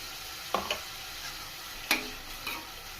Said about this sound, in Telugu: దీన్ని సహా ఫ్రై చేసుకోవాలి గోల్డెన్ కలర్ బ్రౌన్ వచ్చే వరకు ఫ్రై చేసుకోవాలి